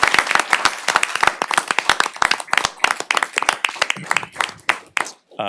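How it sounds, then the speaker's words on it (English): A room full of people clapping steadily, dense and loud throughout, with the applause thinning slightly toward the end. "just a round of applause for everybody that was involved with that effort"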